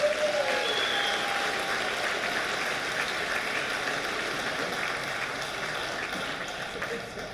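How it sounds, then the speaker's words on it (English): Sustained round of applause from a crowd at a salute event honoring a coach at Winona State, a steady wash of many hands clapping for over seven seconds, slightly distant, with a brief voice at the start. "So how about a round of applause for Rich?"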